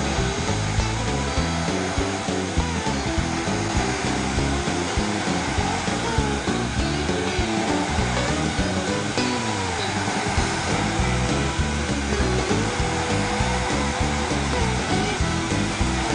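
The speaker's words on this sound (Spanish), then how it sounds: "voy a acelerar el proceso con calor, con el difusor, o también se puede usar un secador de cabello." A hair dryer or heat gun with a diffuser blows hot air over decoupage on a recycled glass bottle. Its whirring blow is loud, continuous and close, and holds steady from start to finish.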